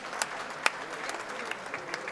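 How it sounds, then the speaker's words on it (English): Audience at a Nigerian comedy show in Lagos claps steadily, a soft, fairly distant wash of applause with a few sharper individual claps standing out. "I'm gonna clap for him."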